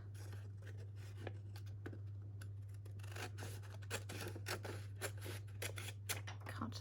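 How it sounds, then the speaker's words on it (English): Scissors snip steadily through paper, a close run of crisp cuts that grows busier toward the end, over a low constant hum with no talking. "Cut that bit to sit underneath."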